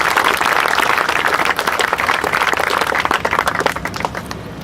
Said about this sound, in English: So I'd ask you to give a round of applause for this.